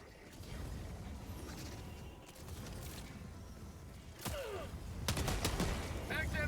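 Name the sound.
gunfire in video game Helldivers 2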